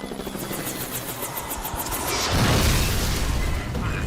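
A helicopter going down in a mayday: its rotor thumps steadily under a loud engine roar, which swells into a heavier, rumbling surge partway through before easing slightly.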